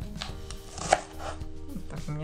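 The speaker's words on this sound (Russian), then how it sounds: "Лук тоже режу на несколько кусочков." An onion is cut into pieces with a knife on a board, giving a series of close, crisp chopping taps at an uneven pace with one sharper strike partway through.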